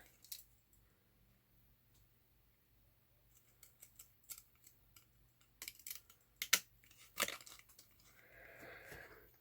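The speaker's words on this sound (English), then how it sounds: "we've got the fancy edged scissors" Fancy edged craft scissors snip through paper for shabby-style tags, giving sparse, quiet cuts that grow louder and closer together toward the end, with no talking.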